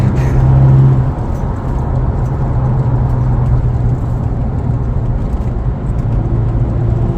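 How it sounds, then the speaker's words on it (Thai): A remapped Ford Ranger XL+ 2.2 manual pickup pulls from sixth gear, giving a steady, close engine drone with road and tyre roar that holds evenly throughout, with no talk over it. "ข้างหน้าจะ้มีชะลอตัวแล้วลองเติมจากเกียร์หกเลย ดึงมาดึงมาเลยนะ"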